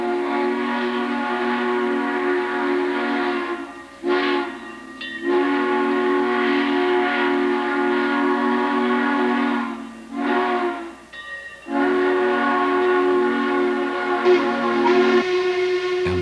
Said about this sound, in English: And some engines have lovely steamboat whistles.